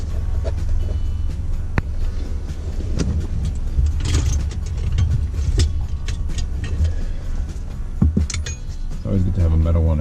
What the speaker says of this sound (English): I'm gonna use a metal pry bar that I have.